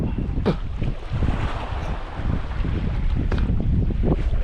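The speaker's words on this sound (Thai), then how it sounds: "ลมมาทุกคนลมมาจากฝั่งนี้นะครับ" Wind gusts across an open boat at sea while squid fishing off Ko Si Chang, roaring into the microphone with rushing buffets, a few sharp knocks and splashes breaking through.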